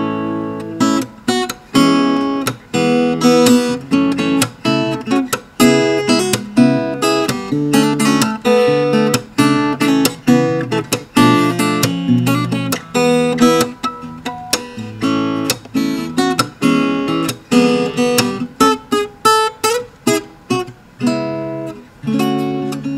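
A high-end LAG acoustic guitar played fingerstyle, plucked notes and chords ringing loud and close in a steady flowing rhythm for the whole stretch, with no voices over it.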